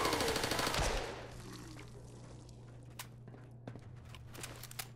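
A burst of rapid automatic gunfire in the video game Fallout 4 rattles loudly for about a second, then cuts off, leaving a steady low hum with a few scattered faint clicks and thuds.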